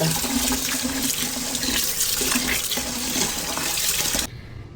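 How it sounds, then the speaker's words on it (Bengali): Rice being rinsed in water in a pot, a steady loud splashing and swishing wash of water that runs continuously and then cuts off near the end. "সেটার মধ্যে চাল ধুয়ে নিচ্ছি"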